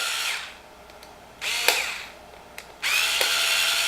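A power drill loosens stainless steel faceplate screws in three short whirring bursts separated by quiet pauses, close and fairly loud, with small clicks between runs.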